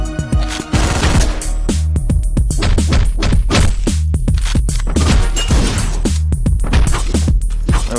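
Gunfire from an armed enemy in the video game Hotline Miami 2, heard as loud rapid bursts of shots and impacts over a driving, constant game soundtrack, with no speech.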